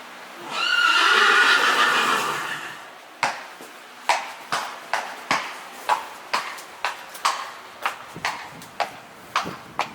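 A horse lets out a long, loud whinny nearby, then hooves clip-clop steadily on a hard surface.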